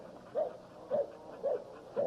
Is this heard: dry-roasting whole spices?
no